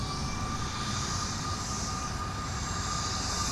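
A SkyWest Embraer 175 jet roars steadily during its takeoff from runway 17, a continuous broadband engine rumble with a faint whining tone, heard alone at a distance.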